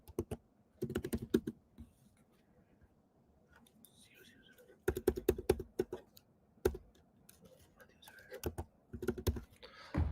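A password tapped out on a computer keyboard, heard as close, quick bursts of clicky keystrokes separated by short pauses, with faint soft background noise between the bursts and no talking.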